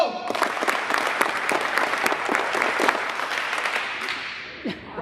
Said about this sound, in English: I want you to clap 10 times